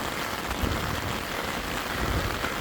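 Storm rain at Walsall Arboretum falls hard and steady, a close, unbroken wash of drops with no talking over it.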